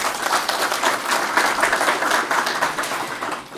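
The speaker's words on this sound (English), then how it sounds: "can we give him a round of applause?" A room of attendees at a corporate analyst briefing gives a round of applause, dense and loud clapping sustained evenly throughout before tapering slightly at the end.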